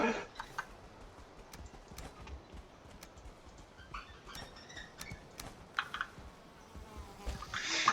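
A giant mosquito in the Valheim video game hums and buzzes through a busy mix of game sounds, with sharp clacks and thuds scattered through the scene.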